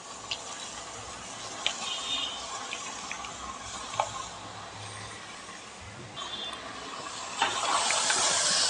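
Washed chicken, 1.25 kg, goes into a spicy chicken curry base in a pan and sizzles with a steady, moderately loud hiss, broken by a few faint clinks and a swell of steam toward the end.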